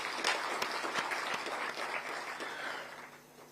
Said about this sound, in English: join our hands and clap for really this great achievement that we're